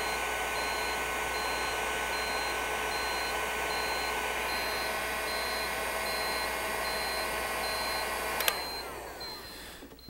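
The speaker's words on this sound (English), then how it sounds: "And we'll start to get some alarms." Alarm beeps from a Precision Digital Watchdog PDS 178 bearing temperature monitoring system as heated thermocouples trip it, a steady repeating electronic tone over constant equipment hum, with a brief click near the end.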